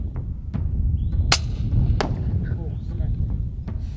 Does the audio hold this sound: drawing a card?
no